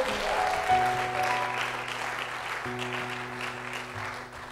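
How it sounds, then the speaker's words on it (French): Church congregation applauding the worship team after a praise song, dense sustained clapping over lingering keyboard chords, with the applause gradually easing off. "Est-ce qu'on peut les applaudir et les remercier"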